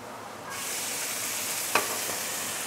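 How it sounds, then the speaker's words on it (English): Beehoon rice noodles fry and char in hot oil in a wok, a steady close sizzle that swells after a moment, with one brief sharp clink of a utensil partway through. "next thing we want to char the beehoon"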